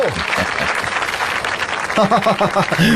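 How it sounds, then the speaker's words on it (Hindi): Party guests break into applause for an honoured guest, a steady patter of clapping that runs under voices before someone speaks loudly over it near the end. "तो जोरदार तालियां हो जाए।"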